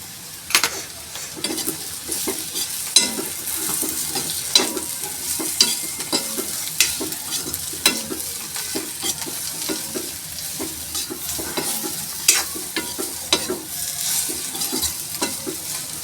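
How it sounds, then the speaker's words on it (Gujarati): A spatula stirs bitter gourd and cashew curry with chili powder, coriander-cumin and sugar in a hot pan. There is a steady sizzle with rapid repeated scraping clicks, close and fairly loud, with no talking. "આપણે ખાંડ ઓગળે ત્યાં સુધી હલાવવું પડશે"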